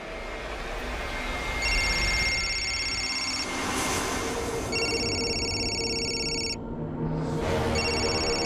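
A telephone rings repeatedly in a tense crime drama scene, its bright electronic trill sounding in several bursts with short pauses, loud and close over a steady background hum; no one speaks.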